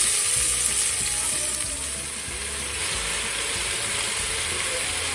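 Sliced onions sizzling in hot coconut oil with crushed ginger and garlic while making a chicken roast; a steady, loud frying hiss with occasional stirring scrapes, continuous and close.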